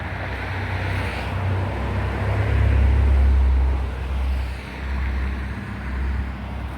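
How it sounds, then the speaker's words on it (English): A car pulls up close by outdoors, a low engine rumble that swells to a peak and then eases off into a steady idle against wind-like background noise. "I see that car, man, just pulled up on it."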